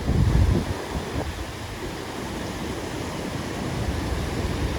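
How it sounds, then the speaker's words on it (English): A steady, broad roar of rushing water from Sioux Falls fills the air, constant and close, with wind buffeting the microphone at the start. "I am here in the midst of the Sioux Falls. As you can see, it is roaring upon me."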